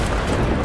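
A rocket-propelled grenade explodes in the Fortnite video game, a single loud, booming blast heard up close.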